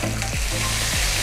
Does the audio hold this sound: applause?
no